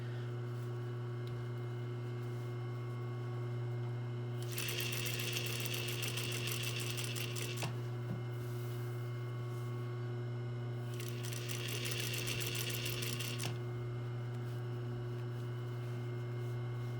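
Domestic sewing machine stitching a fabric collar: two bursts of fast, rattling stitching, each lasting a few seconds, separated by a pause over a constant low electrical hum, with a faint click as the fabric is pivoted.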